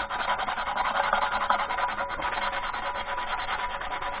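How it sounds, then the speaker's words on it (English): Sanding paint and rust off a metal lawn mower gas tank: a steady, close abrasive rasping that scrubs back and forth without pause, fairly loud and with no talking. "I'm gonna sand this spot right here real good."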